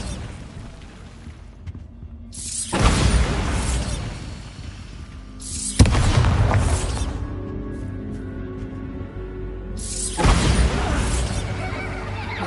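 Bombarda spell explosions in Hogwarts Legacy gameplay: three loud, booming blasts spaced a few seconds apart, each bursting suddenly and then crumbling into a long, rumbling, debris-filled decay.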